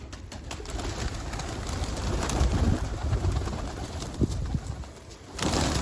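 Pigeons in a grandfather's backyard coop give soft, continuous cooing under steady outdoor noise, with a brief louder burst near the end.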